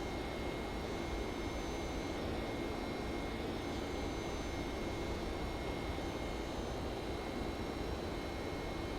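The jet engines of a Boeing 767-300 in the X-Plane 10 flight simulator make a continuous, even roar with a faint high whine, steady for several seconds without any speech.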